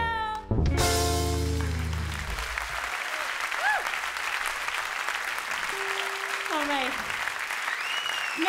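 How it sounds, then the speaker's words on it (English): Concert audience at a jazz show in a loud burst of applause that fades into steady, dense clapping, with a few cheers and whistles rising over the crowd. "Merci pour votre aide avec les claps."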